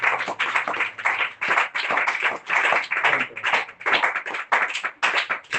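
A congregation at a church gathering claps in bursts of rhythmic, hearty applause, loud and close, with short pauses between the clapping waves.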